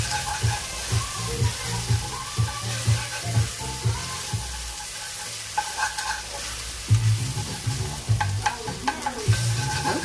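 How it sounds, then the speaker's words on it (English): Plenty of chopped garlic sizzles in hot oil in a pan while being stirred, a constant frying hiss broken by repeated scraping and clattering strokes of the utensil. "I'm just giving all that garlic a bit of a stir in."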